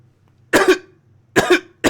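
Two close, sharp coughing fits, each a quick double cough, separated by quiet, with a third cough starting at the end.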